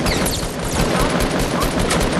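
Fortnite gunfire, a dense, continuous barrage of loud, closely packed shots with little pause throughout.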